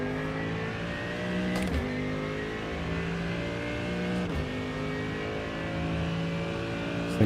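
Front-wheel-drive race car in iRacing at the Nurburgring, its engine droning steadily with harmonic whine held at high revs, two brief gear-shift dips breaking the tone, no talking.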